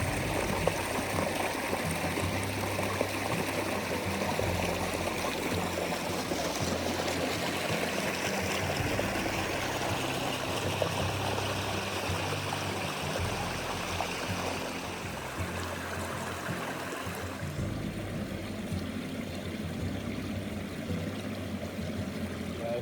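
Steady rushing of a flowing creek in winter, continuous broadband water noise with no voices, fairly close and constant throughout.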